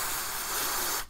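Flux remover sprayed from an aerosol can onto a circuit board after soldering, a single steady hiss lasting about a second, close and loud, cutting off sharply.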